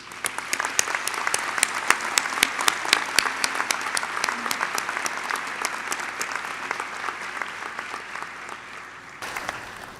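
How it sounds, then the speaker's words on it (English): Graduates and guests at McGill University's fall convocation ceremony in a large hall clap in sustained, dense applause that holds steady for several seconds before thinning out toward the end. "Graduates, let's give all of those supporters a big round of applause."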